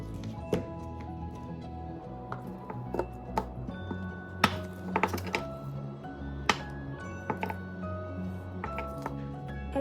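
A knife cuts through a block of cucumber loofah soap, giving irregular sharp taps and thuds as the blade strikes the cutting surface, close and moderately loud with no speech.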